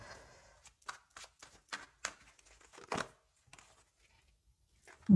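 A deck of tarot cards is shuffled by hand in a series of crisp, papery riffling bursts, close and fairly loud, ending with a heavier thump, with no speech.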